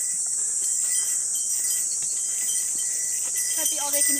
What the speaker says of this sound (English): Hear those cicadas